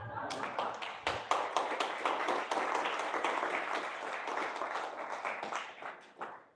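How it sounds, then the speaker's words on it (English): A single person clapping steadily at an event honoring a donated aircraft, fairly faint, with sharp individual claps in an uneven rhythm and no crowd joining in. "Why is Andrew the only one clapping?"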